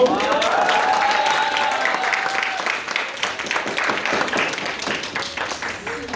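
Applause from a church congregation at a special service greets the association president coming forward, a dense burst of clapping that thins and tapers toward the end, with a few voices mixed in.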